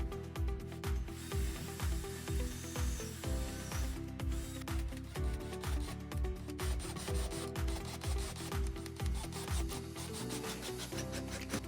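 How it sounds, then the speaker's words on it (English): Steady back-and-forth sanding on the edges of a wooden board for a home rock climbing wall, a loud rhythmic rasping rub repeating every fraction of a second throughout, close up with no talking. "I also sanded the edges for a clean finish."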